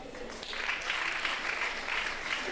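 An audience claps in a dense, continuous patter that swells and eases slightly, with faint voices under it.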